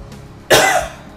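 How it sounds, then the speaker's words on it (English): A patient coughs once, hard and loud, after a deep breath during a respiratory care exercise; a single sharp close burst that trails off quickly. "take a deep breath in and then cough out as hard as you can"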